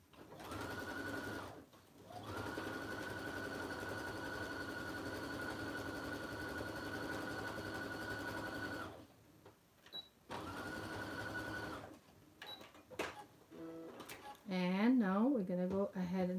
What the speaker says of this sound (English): we're gonna sew this side.